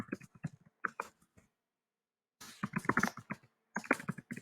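Computer keyboard keys clack in quick irregular bursts, with a pause of about a second before typing resumes in two more runs, close and clear with no talk.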